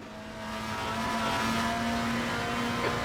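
A WTCR 2016 touring car in RaceRoom holds a steady, droning engine note through a lap, loud and continuous with a slight rise in pitch, no voices over it.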